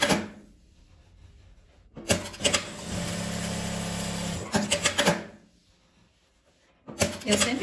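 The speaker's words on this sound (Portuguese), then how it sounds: "só que aqui eu vou costurar ele na diagonal. E vou costurar com a distância maior." Sewing machine stitching small fabric scraps diagonally onto tulle for a patchwork landscape, a steady whirring run of about two seconds between quieter handling noises and short clattering bursts.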